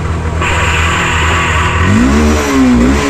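A nearby Yamaha FZ V3 motorcycle engine, which stalls and will not pick up, with its check engine light on, idles loudly, then revs up in rising bursts with a climbing whine.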